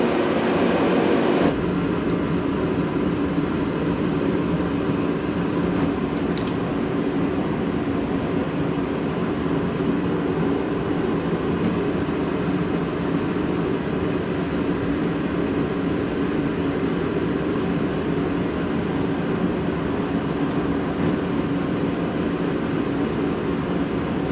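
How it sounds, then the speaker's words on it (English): A heater runs with a constant, even whooshing hum that never changes across the whole stretch, steady and moderately loud. "We've got the heater going."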